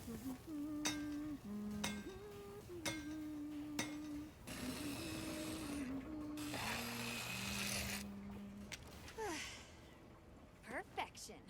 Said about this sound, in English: This is apparently forging a hammer.